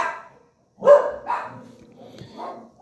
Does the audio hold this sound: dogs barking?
yes